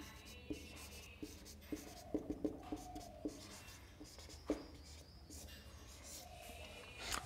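Pen or chalk strokes writing out a numerical integration formula, a series of soft, close scratches and taps spaced through the passage over quiet room tone, with faint speech.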